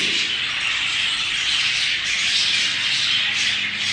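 Pet birds in a breeding room squawk and chatter continuously at close range, a dense, shrill, steady chorus with no talk over it.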